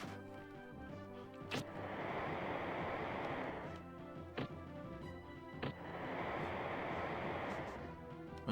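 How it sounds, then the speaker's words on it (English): Two long swells of rushing water rise and recede in slow succession in the Quest 64 game, soft and steady like surf, punctuated by a few sharp knocks. "Water, y'all!"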